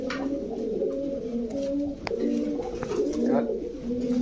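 Pigeons coo close by in a loft, with several overlapping low, throaty rolling calls repeating through the moment, plus a few soft clicks and rustles.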